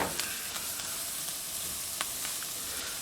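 Garlic sizzling steadily in a hot pan for pasta primavera, a close, even hiss of frying with a few faint clicks and pops from stirring.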